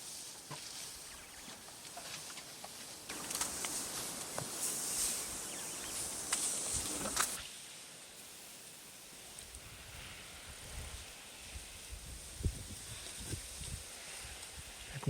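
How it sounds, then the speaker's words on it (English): An elephant bull rubbing mud against a tree trunk in the Manyeleti bush, a rough scraping rustle lasting several seconds, heard off to one side over quiet outdoor ambience. "That noise you can hear on the left is one of the males rubbing some mud"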